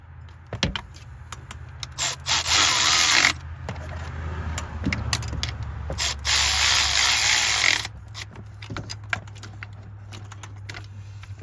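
A ratchet tightens a coil pack bolt on a Chevy truck, producing close, steady clicking with louder, harsher bursts of buzzing in between.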